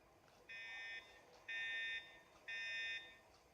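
Three evenly spaced electronic beeps during a Blue Origin high-altitude launch escape test, each about half a second long, shrill and steady, with short pauses between them over faint background noise.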